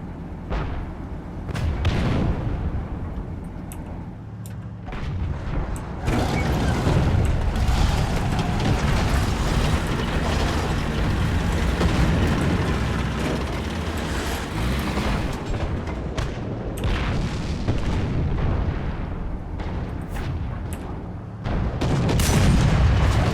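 Tank cannon booms in the War Thunder video game, several heavy thuds spread across a steady rumbling engine and battlefield din, with sharp cracks near the start and end.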